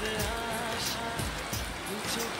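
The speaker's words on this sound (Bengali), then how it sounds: "দেখতেই পাচ্ছেন বৃষ্টি পড়ছে" Steady rain patters down outdoors around a cooking stove, a dense even hiss with scattered drops. A voice sounds faintly underneath.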